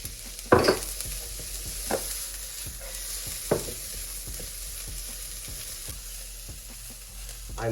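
Chilies and sliced onions sizzle in a pan for black pepper tofu, a soft steady fry broken by a few sharp scrapes and clatters of stirring, close by and without speech.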